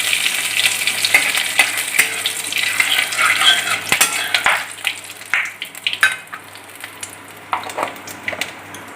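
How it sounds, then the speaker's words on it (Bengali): Whole spices crackle in hot oil: cumin seeds, dried chili, bay leaf and whole garam masala. A strong, close sizzle fades a little toward the end, with scattered clinks of a utensil against the pan. "গ্রেভি তৈরির জন্য প্রথমে জিরে ফোড়ন দিলাম, এরপর এক এক করে শুকনো লঙ্কা, তেজপাতা আর গোটা গরম মশলা একটু ফোড়ন দিয়ে দিলাম।"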